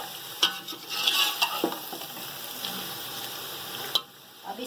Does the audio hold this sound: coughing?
no